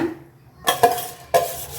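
Rice and lentils being stirred together in a cooking pot for a Kongu-style arisi paruppu sadam: two sharp clinks and scrapes of a metal utensil against the pot, close and loud, separated by a brief quiet gap.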